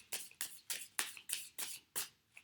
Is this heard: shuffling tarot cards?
yes